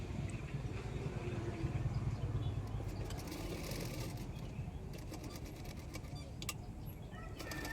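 A sewing machine runs with a low, fine mechanical whir while stitching along the piping edge of a blouse. Birds coo in the background, and some clicking comes through near the end.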